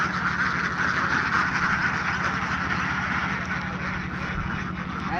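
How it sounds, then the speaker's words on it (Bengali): A large flock of several hundred ducks on a duck farm quacks continuously, a dense, loud, overlapping chorus with no pauses. "আপনারা দেখতে পাচ্ছেন এখানে অনেকগুলো হাঁস আছে, এর মানে 400 প্লাস হাঁস আছে এখানে।"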